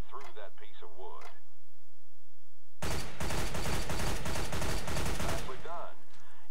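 Dense burst of gunshots fired through a wooden panel in Counter-Strike: Global Offensive, a loud cluster of rapid cracks lasting a few seconds, with brief voice chatter before and after.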